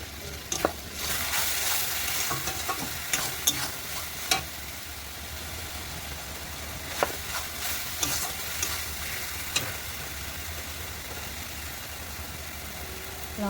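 Spices for a meat curry frying in a pan, with a steady low sizzle and repeated scraping stirs at irregular intervals, a faint engine-like hum in the background.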